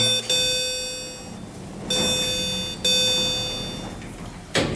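Three clear electronic chime tones from a Schindler-modernised hospital elevator ring out in sequence, each sustained and slowly fading, followed by the start of a fourth near the end.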